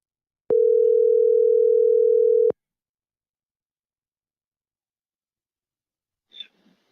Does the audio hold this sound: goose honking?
no